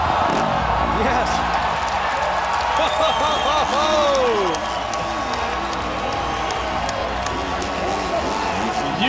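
Loud, sustained crowd cheering and whooping at a motocross best trick competition in a stadium, a dense roar with clapping and whistles, with a commentator talking over it.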